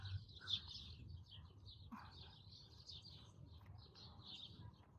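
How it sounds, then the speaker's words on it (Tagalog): Faint bird chirps and short calls sound repeatedly from trees along a garden path in Kuwait, light and scattered over a low background hum. "May huni ng ibon, ha?"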